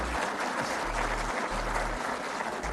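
Audience applause at a political address by Pakistan's prime minister, a steady wash of clapping from a large crowd filling the whole stretch with no voices on top.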